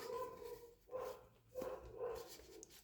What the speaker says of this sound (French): Vraiment désolé pour le bruit des toutous,